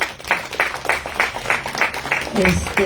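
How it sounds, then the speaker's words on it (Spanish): Audience applause for a National Journalism Prize, a short burst of scattered clapping with distinct rhythmic claps, moderately loud, with a voice emerging near the end. "un aplausote"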